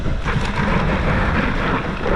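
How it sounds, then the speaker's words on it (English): Strong wind buffets the microphone in a continuous low roar with broadband rushing noise, steady throughout and no speech. "It's a little windy day, so apologize."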